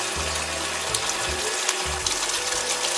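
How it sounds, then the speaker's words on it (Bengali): Water poured into a simmering curry gravy for Bengali dhokar dalna, a faint steady splashing pour with low gurgling pulses in a home kitchen. "এবার জল দিয়ে দিতে হবে"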